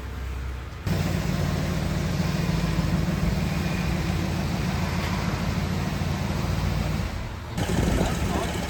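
A 1970 Dodge Challenger T/A engine starting and running, a steady low rumbling idle that holds for several seconds at fairly close range before a brief pause and another surge.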